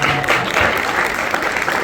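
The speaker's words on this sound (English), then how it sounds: "let's kick this afternoon off by giving yourselves a round of applause" An audience claps at a media launch event for Flip Flop Day, a steady, loud burst of applause from a crowd filling the short stretch without a break.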